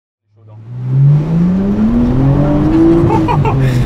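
A turbocharged Nissan Skyline R34 GTT with an RB engine revs hard and rises in pitch over a few seconds, loud and close, with a hint of tire noise as it pulls.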